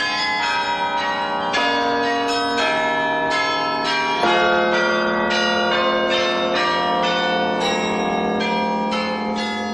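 Carillon bells of the world's largest carillon, 92 bells, ring out a continuous melody with repeated bright strikes and long overlapping resonance, loud and steady with no voices.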